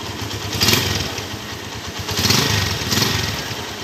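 A Suzuki Tiger Revo motorcycle engine revving up and down in repeated surges, loud and close, with a rough, clattering idle between the revs.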